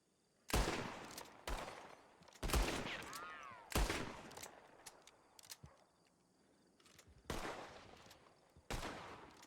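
Sharp gunshots crack out in a Red Dead roleplay game, about six single reports spaced irregularly over several seconds, each loud and close with a short ringing tail, the gaps between them fairly quiet.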